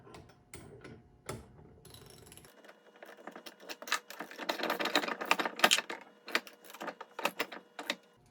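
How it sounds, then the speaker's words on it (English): A ratchet wrench fitted with an 18 mm socket tightens hitch bolts during a three-point hitch install on a John Deere X758, giving close, rapid clicking bursts that build into a dense run of ratcheting in the middle. "let me grab some tools, get these tightened down. All right, 18 millimeter sockets will get you where you need to be."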